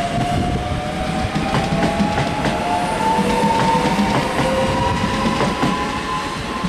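A Class 365 electric multiple unit train rumbles steadily nearby at Hitchin station, with a faint clickety-clack of wheels and a thin electric motor whine rising in pitch as it departs toward King's Cross.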